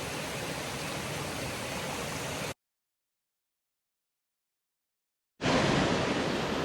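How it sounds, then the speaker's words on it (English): A waterfall on the Appalachian Trail near Marion, Virginia pours in a steady, loud broadband roar, cut off by a few seconds of complete silence before resuming just as strongly. "Waterfall's right there."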